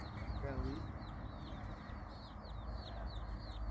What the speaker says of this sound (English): I heard chirping and look at the babies.